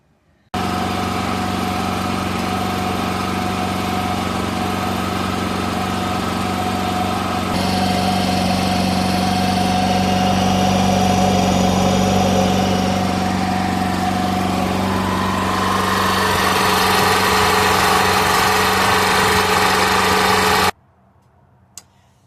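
A generator with a low-voltage fault, putting out only 80 volts, starts and runs loudly for about twenty seconds, its steady drone shifting pitch partway through before cutting off abruptly.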